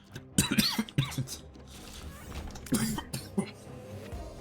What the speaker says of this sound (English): My apologies, had a cough.